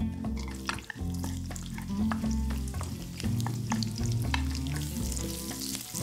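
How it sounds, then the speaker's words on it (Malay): Sliced aromatics and pandan leaves sauté in hot oil for a Malaysian nasi daging, giving a steady close sizzle and crackle with occasional stirring scrapes throughout. "Tumis bahan-bahan hiris tadi dan daun pandan."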